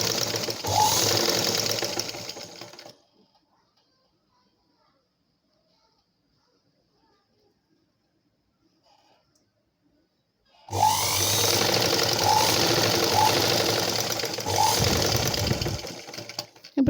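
A sewing machine stitches darts on a blouse in two close, loud bursts of rapid mechanical whirring, about three and six seconds long, separated by a long quiet pause.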